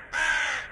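A single harsh crow caw, loud and close, rasping for well under a second with nothing else around it, from a comic short about pet animals.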